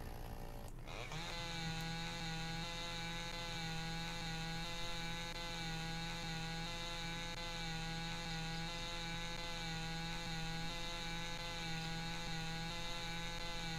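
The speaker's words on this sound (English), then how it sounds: "Now pick up the chainsaw." Game chainsaw in Lumberjack's Dynasty revving up after a brief start, then running at a steady, loud, sustained buzz while cutting wood, heard alone without talk.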